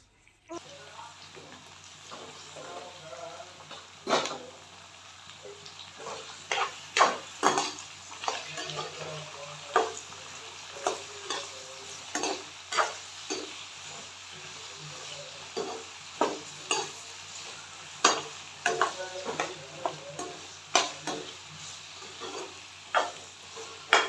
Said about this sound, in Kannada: ಇದನ್ನು ಸ್ವಲ್ಪ ಸಾಫ್ಟ್ ಆಗೋವರೆಗೂ ನಾವು ಇದನ್ನು ಫ್ರೈ ಮಾಡ್ಕೊಳ್ಳೋಣ